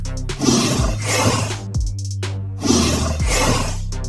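Two short, loud roars from a creature in the video game Creatures of Sonaria, each a gritty bellow of about a second and a half with a brief gap between them.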